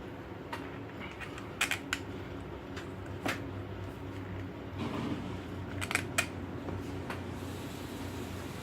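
Screws are snugged into the housing of a Milwaukee 2804-20 Gen 3 Fuel hammer drill: scattered, faint, close clicks and ticks of tightening against quiet room noise, with no talking.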